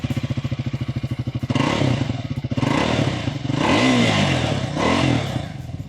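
A Triumph Speed 400 motorcycle idles with a steady, pulsing thump, then the rider blips the throttle and the engine revs up loudly in a couple of rising surges.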